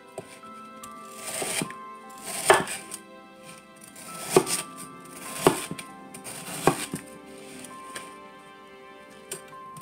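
A knife cuts through frozen garlic cubes on a board, making about five sharp, crunchy chops at uneven intervals, close up, with no talking.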